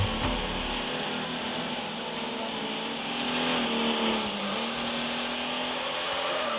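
A car engine in the driving simulation game Driving School revs steadily with a sustained mid-range drone, rising briefly in the middle before settling, loud and continuous with no talk.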